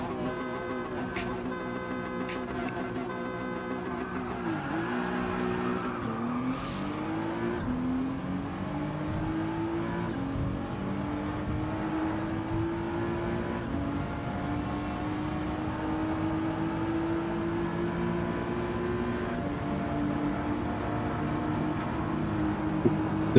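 A Bugatti car races in Gran Turismo 7. Its engine whines steadily and climbs in pitch through long gear pulls, with faint voices in the background.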